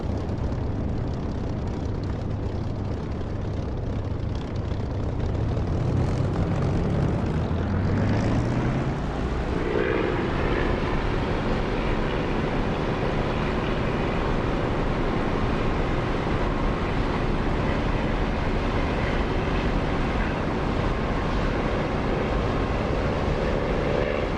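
A military aircraft in the DCS flight simulator game throttles up and takes off, a steady loud engine roar that rises in pitch and sweeps upward as it accelerates.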